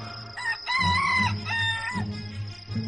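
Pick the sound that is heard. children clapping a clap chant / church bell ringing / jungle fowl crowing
jungle fowl crowing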